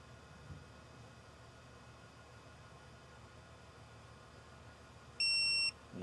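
A digital torque wrench on a Mercedes M276 engine gives a single short, clear electronic beep as it reaches its 80 foot-pound target during tensioner bolt work, sounding over a faint steady background hiss.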